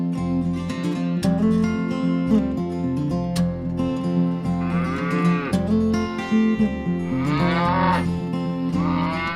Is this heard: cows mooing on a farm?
yes